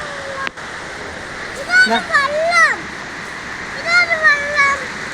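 A river's flowing water makes a steady, broad rushing hiss under the voices of people chatting nearby.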